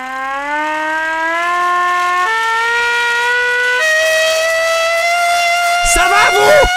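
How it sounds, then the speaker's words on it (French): Hand-cranked air raid siren bought from a Chinese shopping site, its wail climbing in steps as the crank speeds up, loud and close, with a brief clatter near the end. "les sirènes sur batterie, t'en as pas. Donc tu fais ça à la main."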